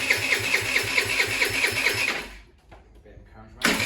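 A motorcycle engine with no airbox and a poorly fitted, blowing exhaust runs with a loud, rapid pulsing putter, then cuts out for about a second before firing up again.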